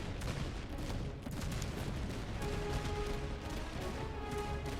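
Musket volley fire rolls down the ranks in the video game Master of Command, a dense, continuous crackle of overlapping shots with no clear pause between them.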